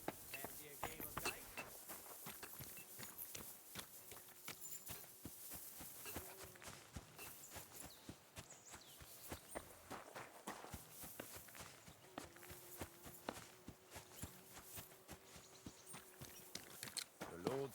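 Horses clip-clopping in a medieval video game, heard as faint, irregular hoof and footstep knocks spread across the clip, with quiet ambience and no clear talk.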